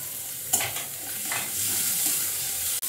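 Beans, carrots, capsicum and green chillies sizzle steadily in a hot pan while a utensil stirs and scrapes a couple of times; no voices.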